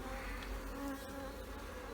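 Honey bees buzz during an inspection of a full brood box, a faint, steady swarm hum with a few individual bees droning close by.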